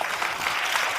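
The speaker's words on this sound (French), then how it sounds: "Applaudissements." Audience applause fills a lecture hall after a talk about the future we are building, a dense, steady wash of clapping at close range that runs unbroken for the whole second with no voices over it.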